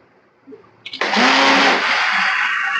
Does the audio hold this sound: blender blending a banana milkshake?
yes